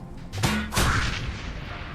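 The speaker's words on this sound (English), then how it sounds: "Isobel, can you like grenade the rats?" A grenade goes off in the video game Shadowrun Hong Kong, giving a close, heavy blast followed by a second booming burst and a rumbling tail, with no talking over it.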